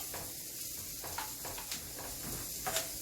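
A black bean and sweet potato filling sizzles steadily in a pan while being stirred, with soft scraping strokes over a constant frying hiss.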